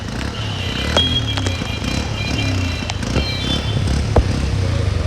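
An Activa motor scooter hums past amid steady traffic noise and heavy rain in Ahmedabad, with a few sharp clatters and clicks along the way.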